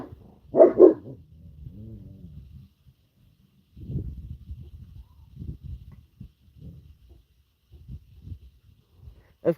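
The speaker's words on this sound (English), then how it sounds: "everyone pauses and goes on alert when Amarok barks." A dog barks sharply at the start, in a garden where rabbits are kept, followed by softer low yips and whimpering sounds spread across the rest of the clip, nearby and otherwise quiet.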